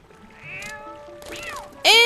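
Cat meows in the Zelda Twilight Princess video game, several rising and falling meows with a loud final one, over a quiet game soundscape.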